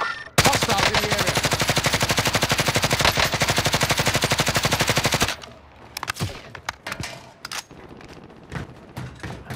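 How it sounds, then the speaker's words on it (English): Rapid automatic gunfire from a video game firefight, a long loud burst of machine-gun shots for about five seconds, then scattered single shots and thuds at lower level. "I hear the shooting."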